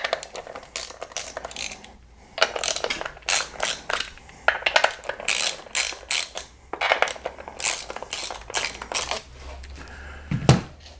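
A ratchet with a 10mm deep socket loosens valve cover bolts on a 2008 Pontiac Grand Prix GXP, giving repeated short metallic clicking bursts at close range in an irregular rhythm, with no talking.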